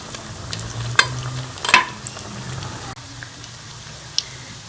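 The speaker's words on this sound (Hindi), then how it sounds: "गोल्डन कलर आने तक हम इसे फ्राई कर लेंगे।" Bread potato samosas deep-fry in oil, a soft crackling sizzle broken by a few sharp clinks and a scrape of stirring near the start, then settling quieter.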